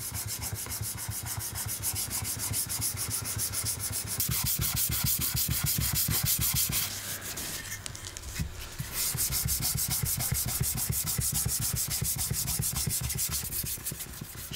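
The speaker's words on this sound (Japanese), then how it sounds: "布で磨いた後、今度は指先で磨きをかけていきます。" Fingertips polish maki-e lacquerware with a steady, close, continuous rubbing and scrubbing, with rapid repeated strokes throughout and no voices.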